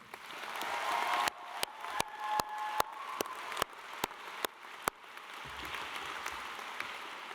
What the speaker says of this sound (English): give a final round of applause to Nadia for her powerful words